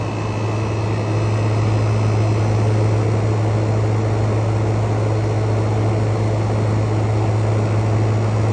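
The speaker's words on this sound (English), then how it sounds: "Compressor is ramping down." A Frigidaire Gallery 10,000 BTU dual inverter window air conditioner drones with a strong low steady hum from its compressor as it ramps down, heard up close over a broad, even whoosh of airflow with no talking.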